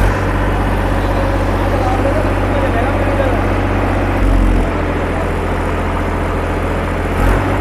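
A Massey Ferguson 7250 46 hp tractor runs an 8 ft rotavator with a loud, steady diesel drone close by, holding one even pitch throughout with a brief swell near the middle.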